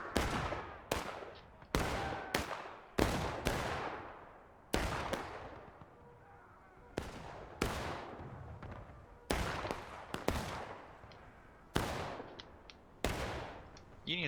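Rifle volleys crack out in the War of Rights video game during a Wheat Field public match, a dozen loud sharp shots with ringing echoes, some single, some in quick pairs, spaced a second or two apart.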